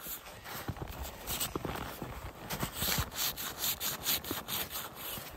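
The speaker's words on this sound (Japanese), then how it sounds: "硬いんでノコ入れるとき力入れるのになるべくへその前に持ってきた方が楽ですよ" A hand saw cuts into hard snow to cut blocks for an igloo on a snowy mountain, with repeated rasping strokes in a steady back-and-forth rhythm, close and fairly loud.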